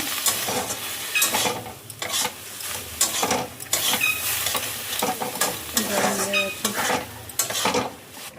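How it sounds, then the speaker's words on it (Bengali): Prawn jhal, a spicy Bengali prawn curry, sizzles and bubbles in a pan close by. Repeated stirring and scraping of a utensil against the pan breaks up the steady frying hiss, with no voices. "এখানে আমার চিংড়ির ঝালটা হচ্ছে, আর একটু কমে গেলে নামাবো।"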